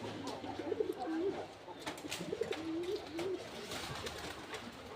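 Pet pigeons coo while drinking water, their low throaty calls coming in two short rolling bursts over a soft background hiss.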